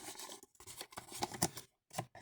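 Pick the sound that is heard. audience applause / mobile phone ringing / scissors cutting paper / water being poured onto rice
scissors cutting paper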